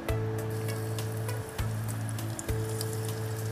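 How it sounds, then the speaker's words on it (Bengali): Chopped onions fry in ghee for a mutton korma, a close, steady sizzle layered over a droning hum that cuts out briefly twice, with no one speaking. "পেঁয়াজ কুচি কিছু দিয়ে দিব।"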